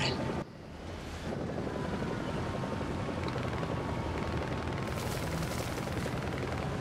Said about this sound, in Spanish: el motor de Abrams solo lo puedes confundir con un avión